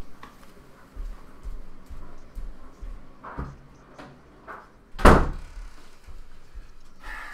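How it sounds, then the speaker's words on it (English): A kitchen door closes with one loud, sharp thud near the middle, after a few softer knocks and bumps, with a low rumble of a tumble dryer running in the background. "This kitchen door closed"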